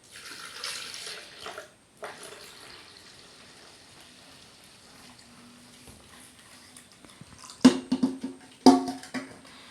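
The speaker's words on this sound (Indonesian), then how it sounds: "kemudian saya beri air 1 liter. Ini sudah saya kasih 1 liter. Nih, saya tuangkan ke sini." About 1 liter of water pours steadily into a container, with a gurgling rush at the start and splashy, louder bursts toward the end.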